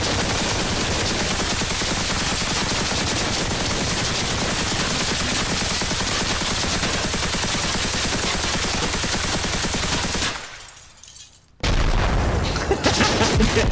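Grenade blasts and gunfire in Arma Reforger merge into a dense, loud, continuous roar of shooting and explosions that suddenly drops almost to silence for a moment before the loud combat noise slams back in.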